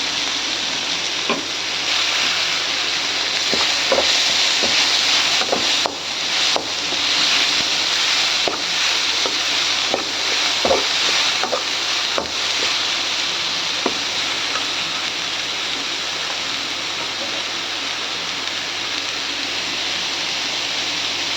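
Tomato frying in oil in a pan for chitranna, a loud continuous close sizzle with occasional light taps and scrapes of a spatula throughout.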